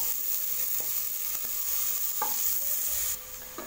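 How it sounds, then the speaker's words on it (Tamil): Onions sauté in a pan under a constant close sizzle, with a few soft clinks of a spatula stirring them. Nobody speaks. "லேசா வதங்கினா போதும் பாருங்க இந்த அளவுக்கு நான் வெங்காயம் வதக்கி இருக்கேன்"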